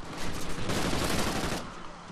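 Pistol fire in Call of Duty Ghosts, a dense burst of rapid shots with rattling battle noise, loud and close for about two seconds before easing off.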